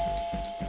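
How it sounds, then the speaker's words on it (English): A doorbell rings with a steady electronic tone held throughout, clear and close, with faint pulsing underneath and no one talking. "The doorbell rings."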